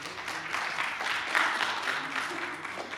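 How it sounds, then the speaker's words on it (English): An audience at a film festival awards event applauds in a steady, dense wash of clapping that runs the full length without pause, fairly distant and moderately loud. "let's give a round of applause for us."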